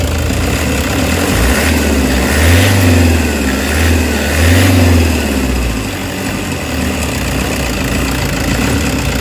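A Toyota Hiace van engine with a low-power fault and delayed throttle response idles close by, then rises in two slow revs that swell and fall back before settling into a steady idle.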